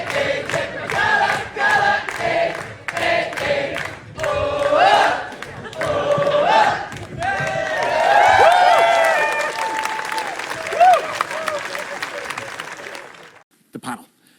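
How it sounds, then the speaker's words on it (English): Studio audience on a Late Late Show Eurosong broadcast applauding and stomping their feet after a performance, loud bursts of clapping and cheers that swell and fade before a sudden stop. "happy crowd, stomping their feet like kids at the assembly"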